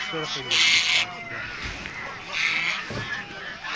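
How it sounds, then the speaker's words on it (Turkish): Ducks and chickens at a poultry and pigeon market in Adapazarı, Sakarya, give loud honking quacks in two bursts, while people talk nearby amid busy market noise. "Vallahi bir, bir sürü tavuk var ya ördek mi ördek"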